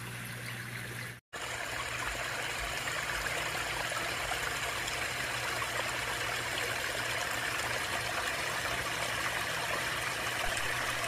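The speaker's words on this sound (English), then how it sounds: "Man, I love the sound of water running." Water runs steadily into a koi pond that has just been reopened after winter, a continuous close splashing trickle that drops out once for a brief moment and then carries on unbroken.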